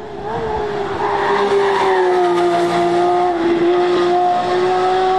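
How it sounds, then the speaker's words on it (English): A Porsche 911 GT3 RS test car on a race track, its engine revving loud and close with a sustained high-pitched wail that climbs and holds steady, accompanied by some tire squeal. "For anyone worried that the noise might tail off in the upcoming GT3 RS, our testing footage suggests otherwise."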